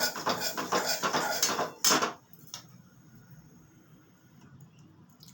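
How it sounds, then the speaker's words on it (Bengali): Dry semolina is stirred in a kadai for mango halwa, a busy scraping and clattering of spoon on metal for about two seconds, then near quiet with one sharp clink. "প্রথমে কড়াতে সুজিটা দিয়ে দিয়েছি। সুজিটা একটু আমি আগে ভেজে নিচ্ছি।"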